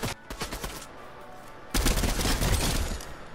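Dense rapid gunfire from the video game Fortnite, a few scattered shots at first, then a loud sustained automatic burst that keeps going to the end, with no talking.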